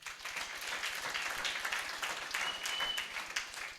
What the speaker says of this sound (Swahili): Tumpigie makofi pia Yesu